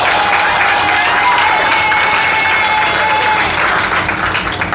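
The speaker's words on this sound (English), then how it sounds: "Give them a round of applause again," Loud, close applause rises from a crowd at the reopening of a fish and bammy shed in St. Elizabeth. The clapping stays dense and sustained, and a faint whistle-like tone drifts through it.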